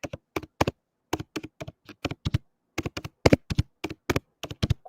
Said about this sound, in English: I was wondering why you're typing like this, and then I remembered that you painted your nails